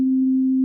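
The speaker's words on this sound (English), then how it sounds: "So right here, this is a sine wave. I'm playing a sine wave." A pure synthesized sine wave tone holds one steady low pitch, loud and unchanging, for under a second with no other sound.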